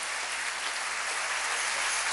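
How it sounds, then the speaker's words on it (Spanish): A church congregation claps steadily, a dense, even wash of applause throughout with no voices. "Denle un aplauso al Rey bendito"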